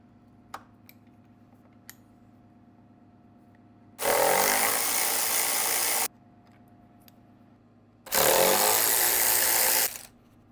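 A power ratchet removing the hard top bolts on a Jeep Wrangler in a garage, two steady whirring bursts of about two seconds each, separated by quiet pauses with faint clicks.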